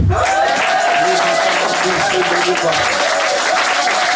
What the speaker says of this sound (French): Quelqu'un peut m'aider à acclamer Jésus